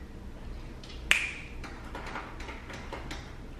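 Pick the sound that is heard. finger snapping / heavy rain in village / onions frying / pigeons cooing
finger snapping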